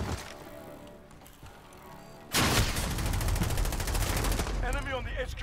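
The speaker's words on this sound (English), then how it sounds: "They're shooting at me." Call of Duty: Modern Warfare gunfire in a hardcore Headquarters match: quieter game ambience first, then a loud sudden burst of rapid automatic fire that rattles on steadily to the end, with the game's own sounds mixed in.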